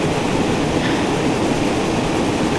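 LNER Flying Scotsman steam locomotive on the East Coast Main Line in Train Sim World 4, a steady, loud rumbling roar of the running train filling the scene without pause.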